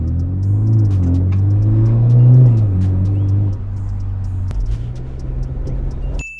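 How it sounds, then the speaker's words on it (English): A BMW 330e with an aftermarket exhaust revs up close and loud, its deep tone climbing and dipping before settling into a steadier, lower rumble that cuts off abruptly. "for a 330e, the exhaust sounds fucking incredible"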